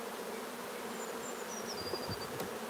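Honey bees swarm and buzz around an opened beehive during queen cell building, a dense continuous hum of many wings, close and steady, with a few individual bees droning past.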